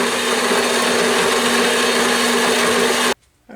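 A saw blade runs at full width through metal plate being cut for leveling feet, a loud, steady, grinding whine that stops abruptly after three seconds, followed by a short faint tail.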